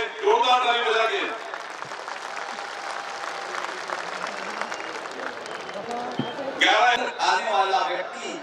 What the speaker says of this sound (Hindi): एक बार जोड़ के ताली बजा के उनका हम स्वागत करेंगे, जोरदार ताली बजा के